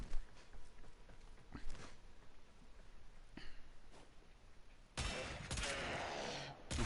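Gunfire from weapons in the video game Warframe, a few scattered sharp shots early on, then a loud sustained burst of rapid firing in the last two seconds, with no talking.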